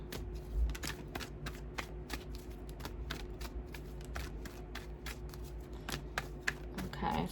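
Tarot cards being shuffled for a reading, a steady run of soft riffling flicks and slaps close by, continuous throughout with no voices.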